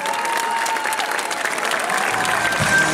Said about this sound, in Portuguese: palmas para a marcha, poeta Pardal.